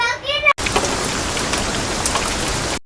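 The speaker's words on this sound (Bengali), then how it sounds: "প্রচণ্ড বৃষ্টি" Heavy rain pours down in a dense, unbroken roar of splashing drops that sets in abruptly after a brief moment of voice at the start, staying loud and steady throughout.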